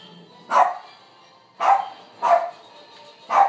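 A dog barks indoors in four separate sharp barks, spaced about a second apart, loud and close, over a low background hum.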